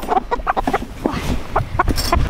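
Hens clucking in a backyard flock, including a molting hen, with a series of short close clucks and soft calls in a steady, uneven rhythm over the whole stretch.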